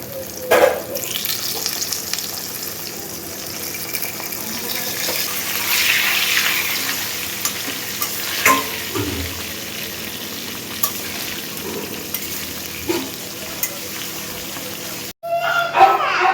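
Food fries in a generous amount of oil, giving a continuous loud hiss with occasional clatters of utensils, then a brief cut near the end.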